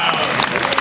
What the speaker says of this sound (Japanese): 下積み世代の拍手を。